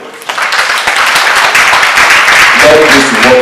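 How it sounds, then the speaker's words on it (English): Audience clapping at a public gathering, a brief burst of applause that rises quickly and stays steady, with a voice speaking over it near the end. "Please clap for the women."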